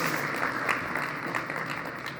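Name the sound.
audience applause at phone launch event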